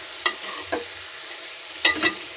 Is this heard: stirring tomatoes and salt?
yes